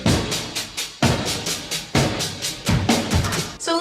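The drum part of a song plays loud and driving, with punchy kicks and snare hits and busy tom and cymbal fills in a steady rock groove, heard alone.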